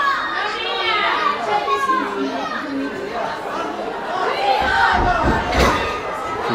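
Busy crowd at a wrestling show in Hoddleston, a dense wash of chatter, shouts and cheering voices throughout, with a heavier thud near the end.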